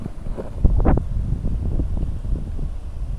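Strong gusty wind at a low-tide seashore during ultralight lure fishing, rough buffeting and roaring across the microphone with uneven gusts throughout, loud and close, no voices.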